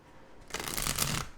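Tarot cards are shuffled in one quick riffling burst of about three-quarters of a second, close and crisp, with no talk.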